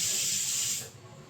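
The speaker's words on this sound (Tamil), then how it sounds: "ஆவி வருது." Steam hissing from a pot of cooking green peas, a loud, close, bright hiss that fades abruptly after about a second, leaving a faint background rumble.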